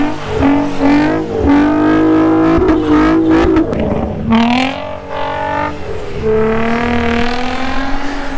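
An Infiniti G35 with a Motordyne exhaust drifts in snow, its engine revving hard and loud in rising and falling sweeps with a raspy exhaust note, close and continuous throughout.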